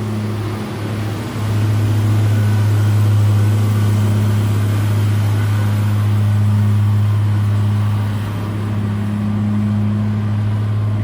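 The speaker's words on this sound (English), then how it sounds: "Truck coming out." A big dumper truck drives out of a gold mine near Ballarat with a loud, steady, low engine drone that holds constant and close for the whole stretch, with no one talking.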